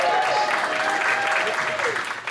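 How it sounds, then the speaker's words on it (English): Convention panel audience at a Maine fan convention breaks into applause for the staff, a steady, dense wash of clapping from a room full of people, loud and sustained before tapering off slightly at the end. "Give the staff a round of applause here at"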